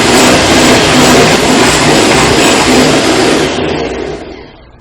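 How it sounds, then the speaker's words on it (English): An electric mixer whips cream for a banana birthday cake frosting, a loud, steady motor whir that runs evenly, then winds down and fades away over the last second or so. No talking. "So let's start whipping the cream."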